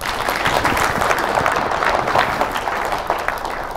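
A seated audience at a Korean forum gives sustained applause to welcome a presenter to the podium, a dense, steady wash of many hands clapping at once for several seconds with no talk over it.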